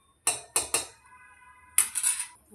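Payasam with sago being stirred in a pot, a spoon knocking against the metal in three sharp clinks, then a pause and a second cluster of scraping taps, close and fairly quiet.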